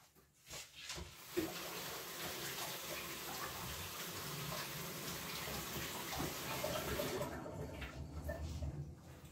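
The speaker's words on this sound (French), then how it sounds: "je vais aller me laver un petit coup les mains" Hands being washed under a running kitchen tap while preparing a tartiflette: a steady rush of water runs for about nine seconds, with a few knocks and splashes at the start and a quieter tail as the flow stops.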